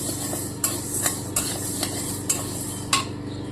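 Moong dal dry-roasting in a pan on a low, steady sizzle, with several sharp clicks of a spoon or spatula scraping and stirring at irregular intervals close by.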